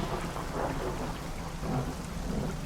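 Video game thunder rumbles in a long, deep roll over steady falling rain, filling the whole short stretch without any break.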